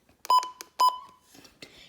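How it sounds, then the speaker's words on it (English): Midland WR120EZ weather radio sounding its alert tone: two short, clear electronic beeps close together, then fainter trailing tones, heard up close and fairly quiet. "it'll beep, but it will keep beeping until you push the weather snooze button"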